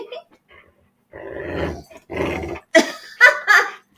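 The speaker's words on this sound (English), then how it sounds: "Listen to him growl." A dog growls low and rough in short rumbling bursts, ending in a few sharper barky snarls, close by in an otherwise quiet room.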